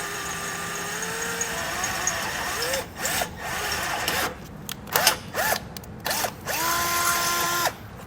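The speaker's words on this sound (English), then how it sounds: "Now you want to be careful when you're drilling about how deep you go." Power drill boring a hole for a Blue Ox base plate into the front of a 2017 Chevrolet Sonic, running in several whining bursts that climb and drop in pitch, with short pauses between them.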